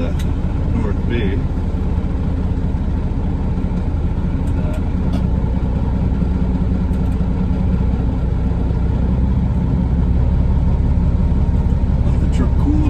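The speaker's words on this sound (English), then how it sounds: "Let the truck cool a bit and" A semi truck engine idles after a haul, a steady low rumble that holds through the whole stretch with no break, close and constant.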